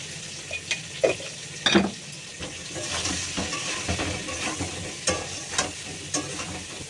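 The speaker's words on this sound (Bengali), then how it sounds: "দিয়ে পটলটাকেও ভেজে নেবো এবার সুন্দর করে" Pointed gourd frying in a pan with salt and turmeric gives a steady close sizzling hiss, broken by a few sharp scrapes and knocks of the spatula as the pieces are turned.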